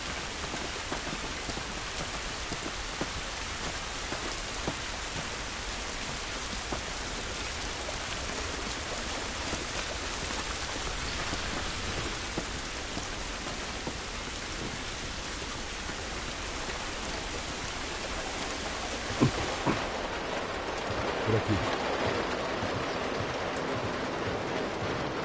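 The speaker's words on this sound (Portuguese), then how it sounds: "Essa chuva não vai nos ajudar." Steady rain pours in the video game The Last of Us, a dense continuous patter of drops on surfaces heard alone, with a faint thump near the end.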